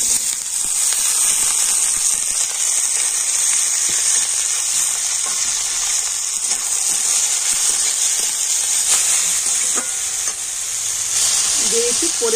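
Thinly sliced potatoes, onion and green and red chillies sizzle loudly and continuously in hot oil, a dense frying hiss with faint stirring scrapes underneath.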